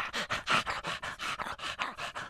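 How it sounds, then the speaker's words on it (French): A big dog in an animated cartoon pants in quick, steady, breathy huffs, about a dozen close and loud bursts in rhythm, with no talk over them. "Le chien, le gros chien,"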